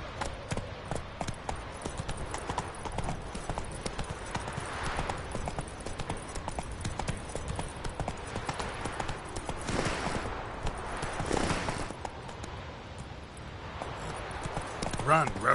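A horse gallops in a PS4 video game, rapid continuous hoofbeats that keep up throughout with game sounds around them, and a person calls to the horse over the top.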